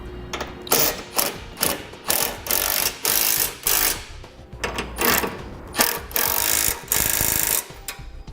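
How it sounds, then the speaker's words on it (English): A ratchet wrench with a 3/4 inch socket tightens the half-inch bolts on the bottom of a Roadmaster crossbar-style base plate, clicking in a steady rhythm of short bursts, close and loud, with no voices. "those will take a 3/4 inch wrench and socket"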